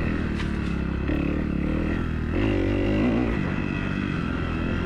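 A Beta 300cc two-stroke motorcycle engine under way, buzzing steadily with wind roar and a brief rise in pitch mid-ride, with light clatter over the engine and no talking.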